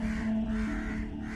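A crow caws loudly and harshly in a single drawn-out call that fills the moment, close and alone with no voices, as a spooky sound effect.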